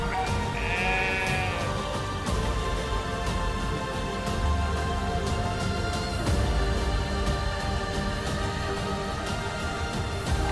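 Sheep and goats of nomadic Gaddi herders in the Himalayas bleat repeatedly over the steady noise of a large flock. Calls come from near and far, with a prominent bleat early on.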